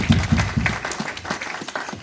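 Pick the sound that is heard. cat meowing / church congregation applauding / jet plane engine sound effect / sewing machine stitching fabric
church congregation applauding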